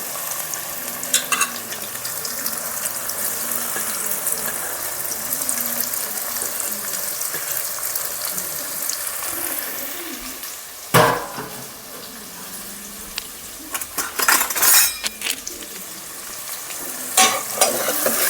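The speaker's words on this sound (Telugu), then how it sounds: "ఆయిల్ వేడెక్కిందండి. ఆనియన్స్ వేస్తున్నాను" Onions frying in hot oil for a slow-cooked mutton curry, a steady close broadband sizzle with stirring scrapes and sharper crackles near the end, no voices.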